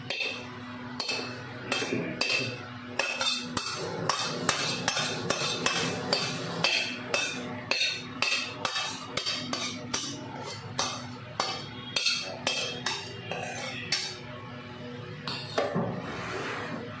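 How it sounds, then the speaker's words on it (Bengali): A spoon scrapes and stirs semolina in a pan while it toasts for upma. The close, rhythmic scraping strokes repeat steadily throughout, with metallic clinks against the pan. "একটু কালার আসা অবধি এটাকে নেড়ে নিতে হবে"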